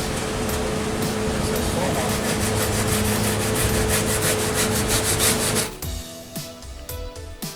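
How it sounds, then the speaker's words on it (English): A hacksaw blade sawing through excess cured spray foam in a steady, rapid rasping rhythm close up for several seconds, then stopping abruptly, leaving quieter scattered handling noises. "while I take this hacksaw blade to the excess foam and get it all trimmed back"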